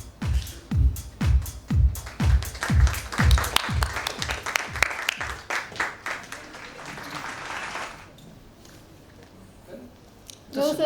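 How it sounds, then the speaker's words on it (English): At a healthcare leadership awards summit, a loud rhythmic clap repeats close by at first, then blends into fuller audience applause that fades out by the eighth second, leaving quiet room noise. "Ladies and gentlemen, a warm round of applause for Dr."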